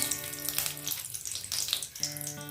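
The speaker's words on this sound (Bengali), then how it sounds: "ফোড়নটা আমি খুব ভালো করে ভেজে নেব।" Cinnamon pieces, cardamom pods and bay leaves frying in hot oil for a Bengali doi katla fish curry, a close, steady crackling sizzle with brief bright spits, a faint tonal hum dipping out midway.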